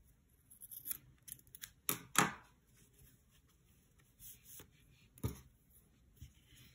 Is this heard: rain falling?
no